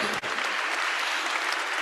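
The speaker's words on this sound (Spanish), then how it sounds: "Un fuerte aplauso hasta Seúl." Audience at the closing of a social economy forum applauding, an even, sustained burst of clapping from many hands throughout, with little talk.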